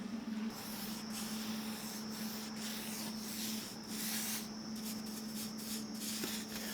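Brush scrubbing paint onto a rusty 1987 Ford F-350 truck frame, a quiet steady rubbing swish with short repeated strokes and a faint constant hum underneath.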